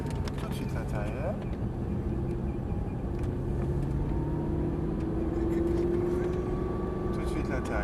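An Audi R8 on a race track speeds up and slows repeatedly, its engine droning and shifting pitch steadily under the continuous talk of an instructor guiding the driver.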